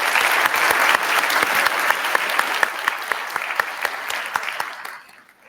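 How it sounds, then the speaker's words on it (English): Audience clapping at an Air Force cyber change-of-responsibility ceremony, a steady, moderately loud round of applause with distinct individual claps that tapers off and stops near the end. "let's give him another round of applause"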